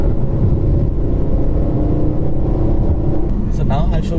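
Volvo S60 Cross Country engine pulling hard after a downshift, a loud low rumbling drone building steadily under road and cabin noise, with a voice speaking briefly near the end.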